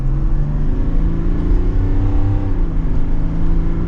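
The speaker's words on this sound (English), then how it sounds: "Let's go to second gear. We'll give it some gas." A 2024 GMC Yukon XL Denali Ultimate accelerates in second gear, its engine drone steady and loud from inside the cabin, rising slightly in pitch with a faint whir and no talking.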